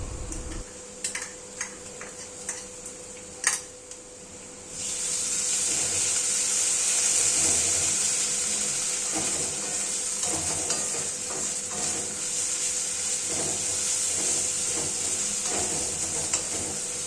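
Garlic and ginger paste hits a pan of browned onions for an egg curry with curry leaves, bursting into a loud, steady sizzle after a few quiet clinks and taps, with occasional stirring scrapes under the continuous hiss.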